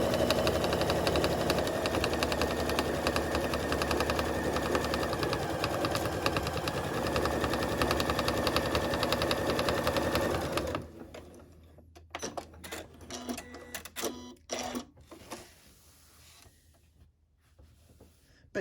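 A sewing machine stitches a line on fabric for a drawer organizer, running in a fast continuous whir for about ten seconds up close, then stopping and leaving scattered soft handling clicks and rustles.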